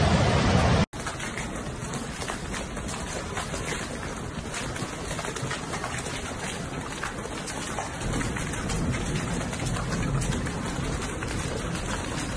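Heavy storm rain pours steadily in Rome, a dense, constant hiss of water on surfaces that holds unbroken for several seconds after a brief cut at the start.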